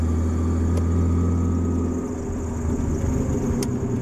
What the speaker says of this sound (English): You can hear that idler pulley going away.